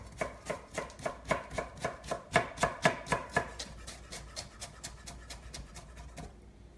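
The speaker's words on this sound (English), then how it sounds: "Nice thin shavings of watermelon radish. Let's julienne that." A knife julienning watermelon radish on a cutting board gives a steady run of crisp, evenly spaced chops, louder at first and then lighter and quicker, with no voices.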